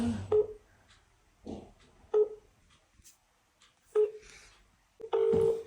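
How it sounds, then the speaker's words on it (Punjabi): A phone's ringback tone sounds in short, evenly spaced beeps, with quiet pauses between them and faint background noise. "ਮੈਂ ਫੋਨ ਲਾਉਂਦੀ ਆ"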